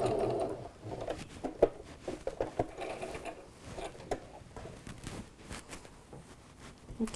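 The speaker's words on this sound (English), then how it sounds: "Do a reverse stitch there." A sewing machine runs a reverse stitch in short, quiet bursts of mechanical whirring and clicking, with uneven pauses between the runs.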